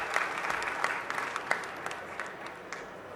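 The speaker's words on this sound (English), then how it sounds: "How about a nice round of applause to Cole?" Audience applause at a supply chain conference innovation award session, a steady wash of many hands clapping in a large hall, moderately loud and slowly tapering off toward the end.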